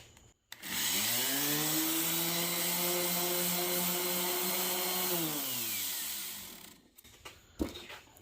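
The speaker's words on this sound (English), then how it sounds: "This will take care of all that surface rust. So let me just apply that to the sander." A power sander with a 60 grit pad scrubs surface rust off a Delta 8-inch drill press. A steady, close, loud whine spins up, holds for about five seconds, then winds down, with no talking.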